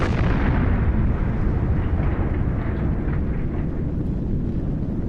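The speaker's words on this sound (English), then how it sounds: "an unexpected power spike caused a series of huge explosions." Deep, roaring blasts from a nuclear reactor explosion rumble continuously, a heavy low-frequency boom sustained and dense throughout, loud and unbroken.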